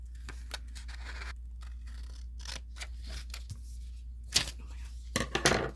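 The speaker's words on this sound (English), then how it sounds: "you take your handy dandy scissors and you cut very carefully along this line here" Scissors cut carefully along a line in origami paper, giving faint, slow snips and crisp paper crackles over a low steady hum, with a few sharper cuts near the end.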